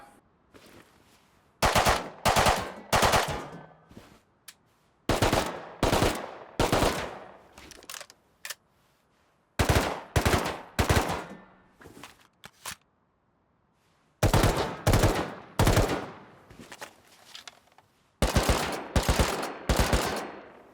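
Burst-mode gunfire in the video game Rust, heard as five loud, close bursts of rapid shots. Each burst lasts about two seconds, and short silent gaps separate them.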